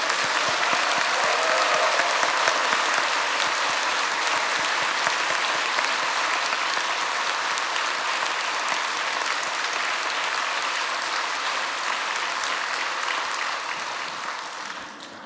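A church congregation applauds steadily at the Seoul Pyeonggang Church 50th anniversary service, a dense, full roar of clapping that holds for about fifteen seconds before easing slightly at the end.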